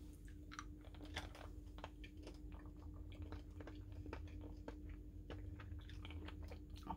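Close, steady chewing of Sweetarts chewy fusion candy, with soft wet squishes and irregular small crunch-like clicks going on continuously with no talking.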